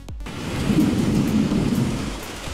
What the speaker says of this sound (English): So it has created this sound of rainfall for us.